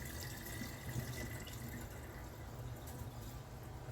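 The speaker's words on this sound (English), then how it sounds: "I'm actually going to pour that over the potatoes so they cool down just a little bit." Water is poured over cooked sweet potatoes, making a steady, soft splashing hiss that runs evenly throughout without any talking.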